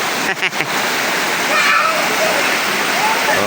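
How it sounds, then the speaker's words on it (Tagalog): A rocky stream in the countryside of Zamboanga del Norte, Mindanao, rushing loudly and continuously close by as a broad, steady wash of flowing water. "Napakaganda talaga ng sapa na dito."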